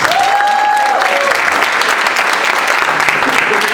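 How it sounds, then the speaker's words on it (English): Steady, close applause fills a community meeting room at a council district candidate forum, a dense clapping wash with a brief raised voice at the start, continuing evenly to the end. "I would ask you to give an applause individually as they call out their names for each of our candidates"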